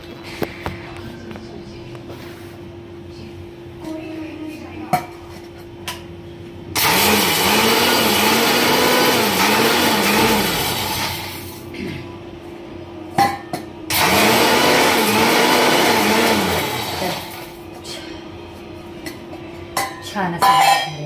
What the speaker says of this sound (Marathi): तर आता मी घेते मिक्सरामधनं काढून.